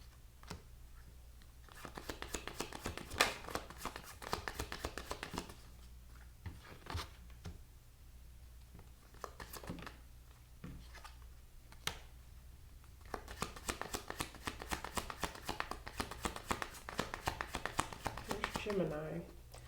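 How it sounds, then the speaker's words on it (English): Tarot cards are shuffled and flipped in bursts of quick riffling clicks and soft slaps, pausing between rounds, fairly quiet and close; a person talks at times between the shuffles. "A bunch of cards are flipping and not flipping."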